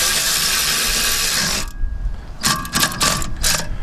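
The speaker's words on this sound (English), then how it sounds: "So we just want to screw that back into place so that it's sitting where it should do." A screw being driven back into the rear brake assembly of a Golf GTE, with a steady whirring run of a tool followed by several short ratcheting clicks, close and fairly loud.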